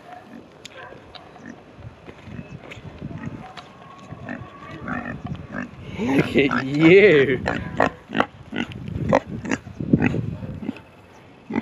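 Grunting pig snorts and squeals rise in the middle, close and fairly loud, mixed with donkey and other farm animal noises in Cyprus while a person talks nearby.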